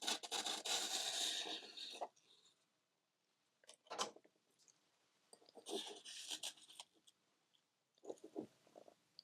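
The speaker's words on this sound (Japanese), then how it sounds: "ナイフを斜めに当てて切り落とします。" A knife slicing the corners off a soft floral foam block, quiet close scraping strokes that come in separate short bursts with pauses between them.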